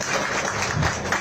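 A crowd applauds to welcome Tamil Nadu Chief Minister Vijay at a public event: a dense, steady wash of clapping lasting about a second, fairly close and even, with no voices over it.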